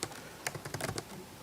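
Several quick, close clicks of fingers typing on a computer keyboard, tapping out iPhone app code in short irregular bursts, fairly quiet with no talking.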